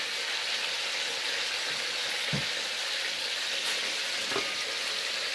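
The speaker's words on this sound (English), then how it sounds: "Boiling so good." A pot of Jamaican brown stew chicken bubbles and sizzles steadily on the stove, a close, even simmer with occasional soft pops and no talking.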